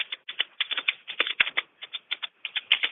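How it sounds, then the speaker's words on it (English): Rapid clattering keystrokes on a computer keyboard during a meeting, bursts of close, crisp clicks with short pauses between runs of typing, no voices. "hold on, I'm typing"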